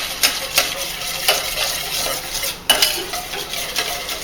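Spaghetti with a carbonara egg mixture is stirred and tossed in a pan, giving repeated soft scraping and clinking strokes in a loose rhythm, close and fairly loud, with no voices.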